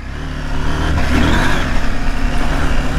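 Husqvarna Norden 901 adventure motorcycle ridden off-road, its engine droning and rising in revs close by with a loose rumbling clatter underneath.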